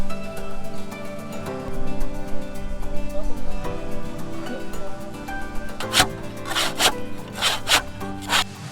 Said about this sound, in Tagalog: Habang naglalagari si Jayman, kami ni Jampol, hahanapin namin yung gitna nito